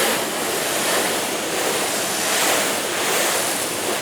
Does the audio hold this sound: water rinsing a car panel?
yes